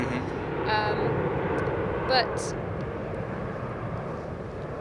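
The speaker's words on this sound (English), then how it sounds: "Is that plane?" Airplane passing overhead outdoors, a steady broad engine roar that swells slightly and holds throughout, with a person's voice briefly over it.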